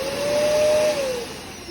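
Shark and Hoover vacuum cleaners run at their highest settings with brush rolls disconnected, giving a loud steady motor whine with a pitch that dips slightly partway through, alone with no talk.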